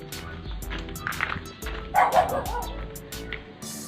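Several dogs bark and yip repeatedly nearby, with some whimpering, mixed with faint voices and background noise.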